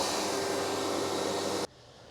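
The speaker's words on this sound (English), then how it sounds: "So I'm going to activate the vacuum pump." Vacuum pump of a CNC milling machine running as a steady loud broadband whir, then cutting off abruptly near the end and leaving a faint hum.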